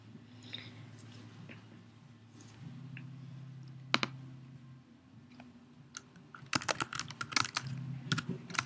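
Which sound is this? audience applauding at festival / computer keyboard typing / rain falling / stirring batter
computer keyboard typing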